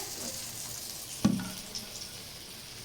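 Chili chicken fries in a pan with a soft steady sizzle and one sharp clatter as it is stirred, faint and close, with no talk.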